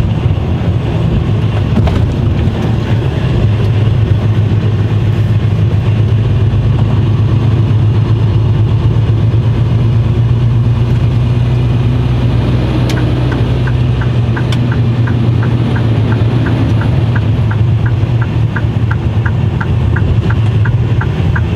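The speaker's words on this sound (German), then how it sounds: "gib mal richtig Gas mit deinem Kipper" Heavy diesel engine of a tipper truck, steady and close with a low rumble throughout and a faint rhythmic ticking in the later part, with no talking.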